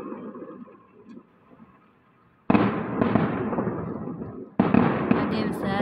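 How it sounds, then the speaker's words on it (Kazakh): Fireworks salute bursting in the sky: quiet murmuring at first, then two loud booming bursts with crackling tails, the second arriving near the end, with faint voices underneath. "Салютты алып босқа аспанға атып"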